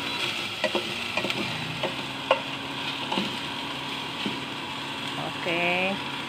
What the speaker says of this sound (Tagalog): Magigisa na kami ng giniling para sa aming gulay na upo. Brown-brown lang natin yan ng konti.